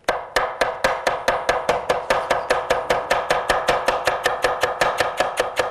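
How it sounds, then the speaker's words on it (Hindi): Spinach leaves chopped finely with a Chinese chopper (cleaver) on a board, a fast, even run of about thirty crisp sharp knocks, close and loud, with no talking. "ये चाइनीज़ चॉपर से हम शुरुआत करते हैं इन पत्तों को काटना"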